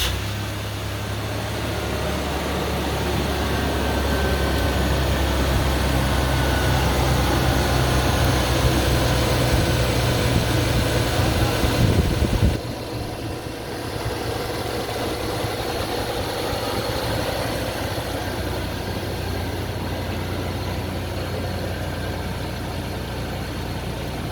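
A twin-turbo Toyota Tacoma engine runs at a steady, loud idle with a low droning rumble, dipping briefly midway before settling back to an even idle, no talking.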